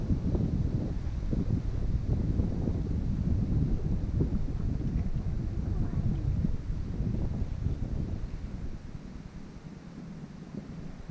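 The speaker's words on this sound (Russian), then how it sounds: "Ветер, конечно, сильный" Strong wind buffets an outdoor microphone on the Inya River near Novosibirsk during summer fishing, a steady loud low roar with gusty rumbling that eases slightly toward the end.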